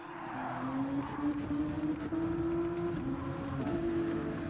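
A race car in Gran Turismo 7 runs off onto the grass after hard braking, its engine holding a steady, rising drone with a rough, scrubbing rush of tyres and surface underneath.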